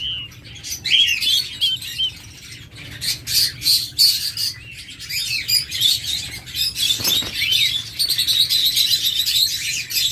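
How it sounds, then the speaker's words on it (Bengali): Many small quail chirp and squeak continuously, overlapping calls close by, busy and fairly loud with no pauses. "আমাদের কাছে চমৎকার কিছু কোয়েল পাখি রয়েছে কিং কোয়েল যাকে বলে"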